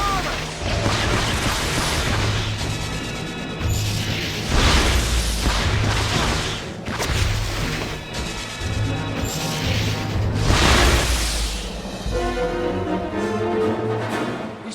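Spell combat in the PS2 game Harry Potter and the Half-Blood Prince: repeated booming magical blasts and crashes over a dense musical score, loud and continuous through the duel, with several strong bursts.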